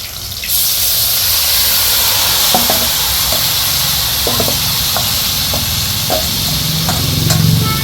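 Bombay duck (lote fish) frying in a pan with spices and black cumin, a loud continuous sizzle and hiss with occasional scraping and clinking of a spoon as it is stirred.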